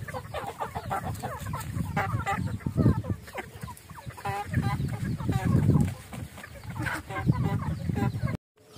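Chickens, including roosters, cluck and chatter close by in uneven bursts, several birds calling over each other, then a brief cut to silence near the end.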